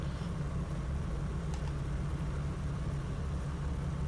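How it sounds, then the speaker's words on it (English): A car's engine idles in the racing game Project Cars 2, a steady low rumbling drone with a rough, tractor-like chug, held constant and moderately loud with no talking. "Sounds like a tractor."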